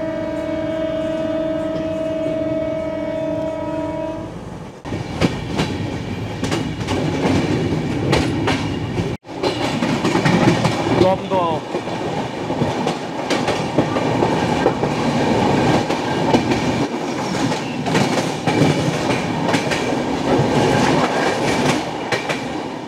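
Puri Duronto Express running with a steady, loud rumble heard from inside a first class compartment, with continuous wheel clatter and a brief dip midway; a tonal hum is heard at the start.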